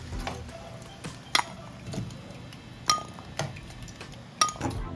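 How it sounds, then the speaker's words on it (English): Fried plantains lifted out of hot frying oil with a utensil, giving scattered metallic clinks and taps against the pan, over a soft background sizzle, close and irregular without speech. "So now I'm going to remove them from the oil."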